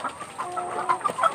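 Laying hens clucking inside a coop holding about 540 birds, several overlapping short clucks and calls from nearby, clear and moderately loud with no talking.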